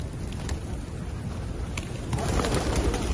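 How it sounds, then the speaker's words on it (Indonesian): Large flock of pigeons being fed in an open square in Mecca, soft cooing scattered over wind and ambient outdoor noise that grows slightly louder toward the end. "banyak sekali ini burung daranya ya"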